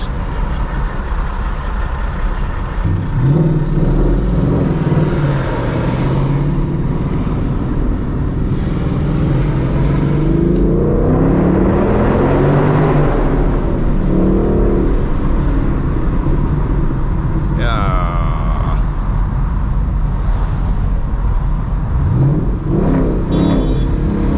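A Ford Mustang GT fitted with a loud Corsa Xtreme exhaust accelerates near a bridge, a deep steady engine roar running the whole time and swelling as it revs up, with no talking.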